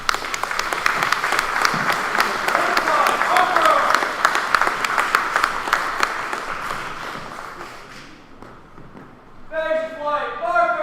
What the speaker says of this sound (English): give another round of applause for this amazing drill team